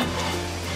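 Kochur loti, taro stolons cooked with dried fish, sizzles steadily in a frying pan as it is stirred, a close, even frying hiss with no speech.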